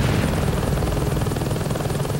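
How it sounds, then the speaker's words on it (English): An attack helicopter in the video game Saints Row 2 flies steadily, its rotor thump and engine drone continuous and loud throughout with no pauses. "we're going to jump out of the attack helicopter, open our parachute"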